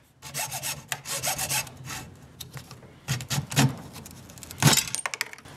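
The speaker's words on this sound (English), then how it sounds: "I'm going to cut a little bit of this PVC plastic." Thin PVC plastic, about an inch wide, is cut up close in quick rasping strokes. Several loud, rough bursts come in an uneven rhythm with short pauses between them.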